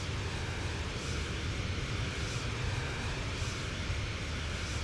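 Steady, even aircraft engine drone in the X-Plane 12 flight simulator as a plane flies over Louisville toward the airport, a continuous broadband hum holding at one level with no talk.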